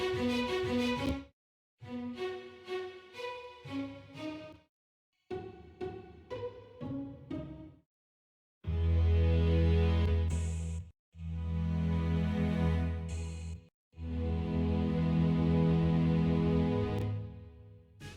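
Layered Spitfire Labs strings in spiccato, pizzicato and legato articulations play in turn, starting with short plucked and bouncing note runs broken by brief pauses, then moving to long, full sustained bowed chords with heavy low body, all without voices.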